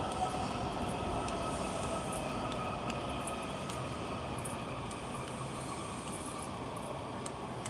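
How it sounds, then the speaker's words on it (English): A train rumbles along rail tracks at a station, a steady, loud, continuous roar of wheels with faint squeals, no voices. "What is taking this train so long?"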